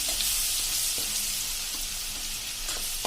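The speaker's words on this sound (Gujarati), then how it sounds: "આને હવે 1 મિનિટ આપણે સાંતળી લેશું." Pepper powder and a ginger, garlic and chili paste fry in hot oil for a Kathiyawadi whole-onion curry, giving a loud, continuous sizzle with a few soft stirring knocks and no talking.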